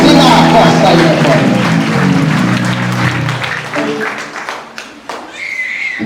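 A church congregation claps during a service, a dense burst of applause mixed with a speaking voice that fades into scattered claps and talk.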